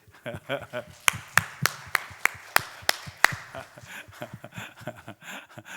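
A church congregation at a Sunday service claps sharply in a steady run for a couple of seconds, then fades, while people talk underneath throughout.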